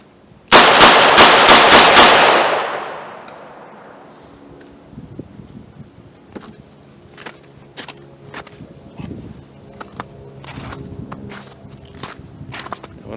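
Six rapid shots from an S&W Model 64 .38 Special +P revolver crack out loudly in quick succession at an outdoor range, their echo fading, followed by scattered quieter clicks and handling noises.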